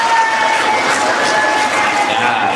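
Steady, loud applause mixed with cheering from a large crowd of students at a religious study session at Pondok Pesantren Nurul Jadid, sustained without pause.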